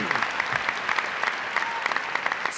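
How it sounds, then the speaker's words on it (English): Crowd applause at a college baccalaureate degree ceremony fills a large hall, a steady, fairly distant patter of many hands with scattered louder claps throughout. "so let's give them another round of applause."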